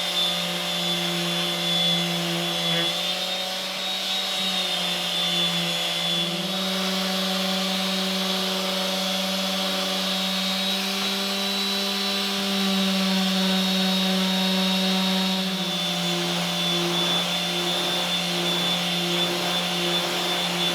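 A continuous electric sander sanding the wood of a workbench drones steadily with a high whine and a low hum, running without pause for a long stretch.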